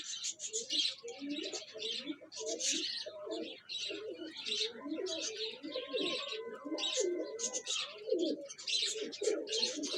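Flying pigeons at a pigeon club murmur in continuous low, rolling coos layered with brighter chirps and rustles, many birds close by throughout.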